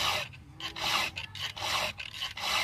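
A hand file strokes across a chainsaw chain, giving a series of rasping scrapes in an even back-and-forth rhythm, close and fairly quiet with no talking.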